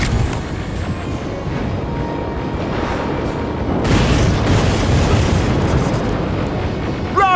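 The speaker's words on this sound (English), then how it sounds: "Rockets! They're heading this way!" Rocket explosions in Terminator Resistance rumble as a dense, continuous wall of booming noise, with a louder burst midway that swells and stays heavy until the end.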